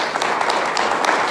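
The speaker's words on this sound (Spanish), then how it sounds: "en un aplauso sincero a cada mujer aquí presente" Steady applause from a church congregation honoring the women present, a dense continuous wash of clapping throughout the short stretch, moderately loud with no voices standing out.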